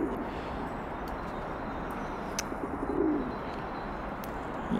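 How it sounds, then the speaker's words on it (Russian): Pigeons cooing outdoors where several birds gather to feed, a low steady murmur of coos with faint chirps above it and a slightly louder swell near the middle. "Вот это, по-моему, самый наглый голубь."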